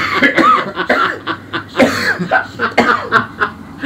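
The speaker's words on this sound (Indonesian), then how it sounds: "Batuk kan lu." A person coughs repeatedly in short, close, fairly loud bursts over a few seconds, with throaty, laugh-like sounds in between.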